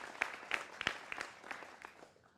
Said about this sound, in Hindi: जोरदार तालियों के साथ अभिनंदन करिए।